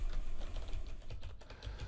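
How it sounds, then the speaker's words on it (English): Steady typing on a computer keyboard while entering a SQL query, a quiet, continuous run of rapid key clicks with no talking. "So if I'm typing in"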